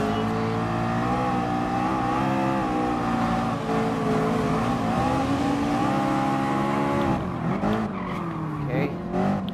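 Race car engines in Gran Turismo Sport, including a Lamborghini, drone and shift pitch steadily during an overtake, a loud sustained whine with rising and falling tones, while someone talks over it toward the end.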